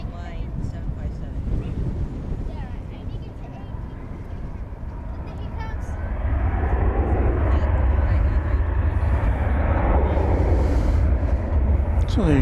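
An international airliner arriving at DFW airport swells into a loud, broad jet roar midway and holds it, heard outdoors amid wind noise, with people talking over the earlier part.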